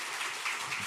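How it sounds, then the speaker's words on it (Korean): A congregation claps together in a church during a Sunday worship service, a brief dense wash of applause with no talk over it. "다시 한번 큰 박수로 격려합시다."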